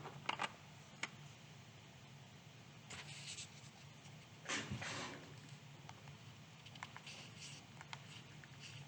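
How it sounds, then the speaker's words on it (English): Soft plastic clicks of numbers being keyed into a calculator, scattered taps and short bursts over quiet room noise, with a faint rustle partway through. "let's just type it in the calculator."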